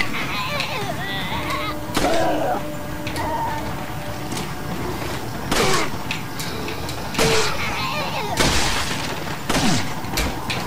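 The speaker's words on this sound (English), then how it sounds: "Clearly, we have to shoot them." Scattered gunshots in Resident Evil 4, several sharp loud bangs spaced a second or two apart over game ambience, with people talking throughout.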